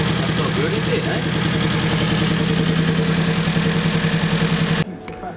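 A car engine idles with a cylinder misfire caused by a faulty spark plug, giving a steady, uneven low rumble close by that cuts off abruptly near the end.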